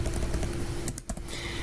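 Typing on a computer keyboard, a short run of quiet close key clicks under steady room noise, ending in a few distinct taps.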